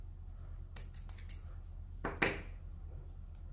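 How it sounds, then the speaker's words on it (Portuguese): Scissors snipping crochet yarn for an amigurumi piece: a few light metallic snips and then one firmer close cut, quiet and near, with no talk. "Agora podemos cortar aqui."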